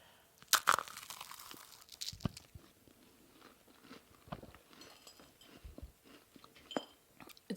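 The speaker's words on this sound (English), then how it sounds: "It's very crunchy when you first bite in and then chewy in the middle." Someone bites into a crunchy pistachio macaron, giving a sharp close crunch, followed by several seconds of softer, irregular chewing and faint crackles; no talking.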